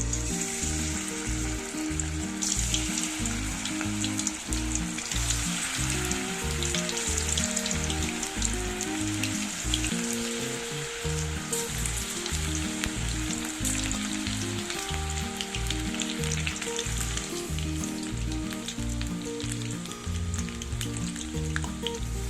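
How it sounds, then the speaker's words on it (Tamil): Small vada-style mushroom masala fritters fry in hot oil for roadside kaalan, with a loud, steady sizzling and crackling bubbling that continues evenly throughout and no talk. "இப்போ நம்ம பிசைஞ்சு வச்சதை சின்ன சின்ன வடை மாதிரி போட்டு எடுத்துக்கலாம்."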